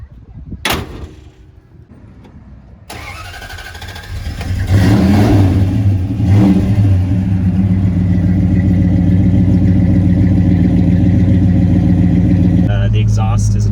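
A 1965 Dodge Dart's engine starts and idles with a deep, rumbling non-stock dual exhaust, then revs up loudly and holds a steady throaty roar.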